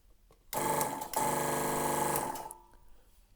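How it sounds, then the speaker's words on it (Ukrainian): A hydraulic oil press station for a 30-ton cold-press oil press starts with a sudden mechanical whir, runs at a steady loud buzzing hum for about two seconds, then winds down. "Також покажу, як працює маслостанція."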